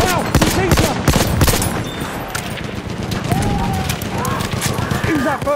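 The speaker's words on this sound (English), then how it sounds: "There's a machine gun." Machine gun fire rattles in the Battlefield 1 video game as loud, dense bursts of shots in the first seconds, then thins into a rougher combat din. Voices and battle noise mix in throughout.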